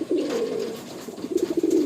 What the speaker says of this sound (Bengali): আর কত অ্যাক্টিভ পায়রা দেখুন